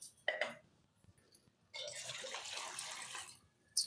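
Water pours into a pot of rice for tomato biryani, a brief splash followed by a longer steady pour that runs about two seconds, close and fairly quiet, with no talking.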